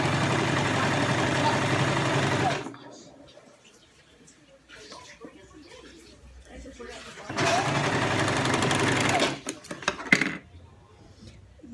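A sewing machine runs in two steady bursts, a dense whirring hum lasting a couple of seconds each, separated by quieter moments of handling and clatter.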